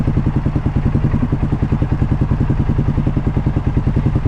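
A Polaris ACE 570 UTV engine idles steadily up close, its small single-cylinder thumping in a fast, even pulse with a slight clattery edge, running alone without voices.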